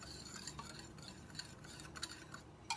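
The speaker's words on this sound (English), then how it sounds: "And just keep whisking it up." Whisking dry chocolate pudding ingredients with slowly added water in a bowl, a steady close scraping and stirring texture with light clinks of the whisk against the bowl, no talking.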